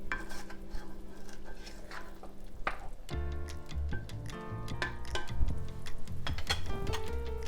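Spice bag stirred into a pot of braising Chinese red-braised pork belly, with scraping and clinking of a utensil against the pot, a sudden knock near three seconds and then a steadier run of stirring clatter.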